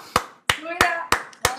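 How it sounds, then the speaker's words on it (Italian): Five sharp, evenly spaced claps ring out close by for the sixth contestant of a singing competition, with a voice speaking between them. "Un applauso al sesto concorrente."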